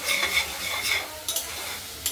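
Banana flower curry with potatoes and peanuts is stirred in a pan after ghee is added, giving a soft continuous sizzle with a few light scraping strokes, heard alone.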